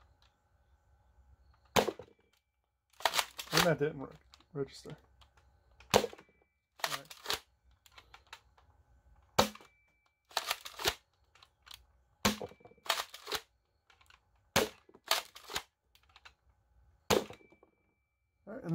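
Five shots from an Adventure Force Nexus Pro spring foam blaster, sharp snapping reports spaced a few seconds apart among priming clacks, close and loud, with a short spoken remark between them.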